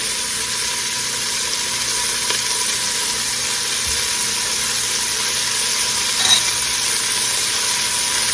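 Garlic sizzles in a pot of hot fat, giving a steady, even frying crackle at moderate loudness with a faint clink near the end and no talking.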